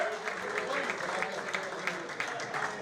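Applause for Milče Madžunarov, a former Ljuboten player, at a Teteks Tetovo veterans' generations reunion, sounding as a steady crowd clapping with sharp individual claps throughout, under faint voices.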